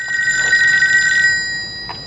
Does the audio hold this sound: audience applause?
no